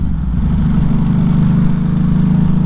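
A 2010 Ducati Hypermotard 1100 Evo V-twin reaccelerates from around 2500 rpm. The engine gives a loud, close, steady throbbing pulse with no voices over it.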